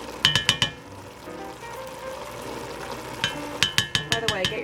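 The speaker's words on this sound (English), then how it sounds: "now I'm gonna add the tomato paste" Tomato paste goes into sirloin chili cooking in a pot, with a soft sizzle under two quick bursts of metal clinks and scraping taps from a spatula or spoon against a can or pot, close up and with no voices.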